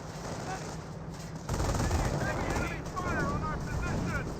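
Game battle gunfire from a Company of Heroes 1 match, American forces against Panzer Elite, with a continuous roar of rattling shots that grows louder partway through, under a busy mix of other battle sounds.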